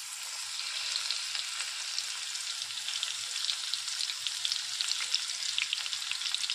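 Garlic with curry leaves sizzles steadily in hot oil, a continuous close crackling fry with no speech over it.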